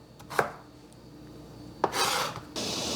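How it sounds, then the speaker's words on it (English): A knife dices a melon into cubes on a board, making a few sharp separate chops with short scraping strokes between them, close and fairly quiet. "Dicing it into pieces like this"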